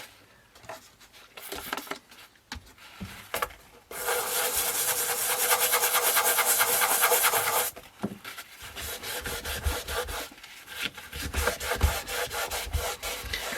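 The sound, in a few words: persistent scrubbing of dirt off a radio's textured case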